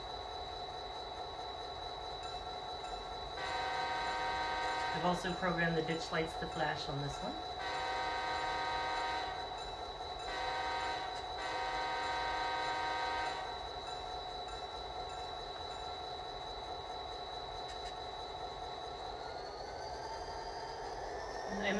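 Proto 2000 six-axle model diesel locomotive with an added sound decoder idles with a steady engine drone, then sounds long horn blasts in two spells, while someone talks over it.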